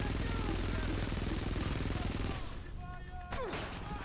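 Dense, rapid gunfire from Frontlines: Fuel of War fills the first two seconds with loud, crackling bursts, then thins into quieter, scattered shots and battle noise.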